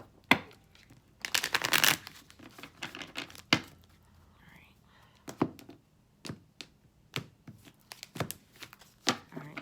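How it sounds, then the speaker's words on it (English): Tarot deck being shuffled by hand: a dense riffle burst near the start, then a run of sharp card taps and flicks at an irregular pace, close and fairly quiet, with no voice. "All right, one more shuffle."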